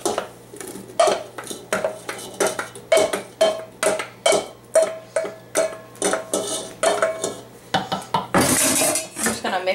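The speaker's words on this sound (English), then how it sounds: "Mix up the strawberries." Utensils clink and scrape steadily against a bowl as strawberries are stirred into a pale pink strawberry mousse mixture, a rhythmic series of close, bright knocks roughly every half second, ending in a brief louder rustle.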